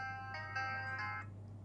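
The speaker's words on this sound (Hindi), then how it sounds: "जो म्यूजिक है प्ले हो रहा है वॉच में" A Fire-Boltt Shark smartwatch plays a short melody through its small built-in speaker, thin, tinny electronic notes that step through a few tones and stop, faint and close over a steady low hum.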